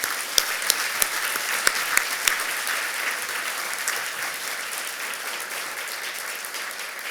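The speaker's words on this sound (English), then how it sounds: "I'd like to have you all give them a big round of applause." Audience applause at the 2025 American Courage Awards ceremony, a dense, steady wash of clapping from a large crowd that holds evenly for about seven seconds, with a few sharper claps standing out near the start.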